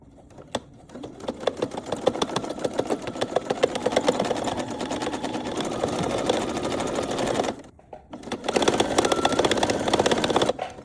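Sewing machine with a jeans needle stitching slowly through several fabric layers of a duffle bag, a steady rapid mechanical chatter that pauses briefly before resuming, close and alone.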